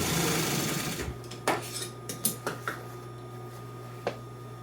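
An upholstery sewing machine in a trim shop stitches a 1955 Chevy two-door post interior. A short run of close mechanical whirring is followed by a few separate clicks and taps, with quieter gaps between them.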